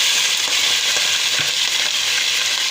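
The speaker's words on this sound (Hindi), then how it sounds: "देखिए जी, सबसे हमारा तेल गर्म हो चुका है। सबसे पहले इसमें हम कीमा ऐड करेंगे।" Minced meat (keema) frying in hot oil, a loud, dense, continuous sizzle close up with no voices.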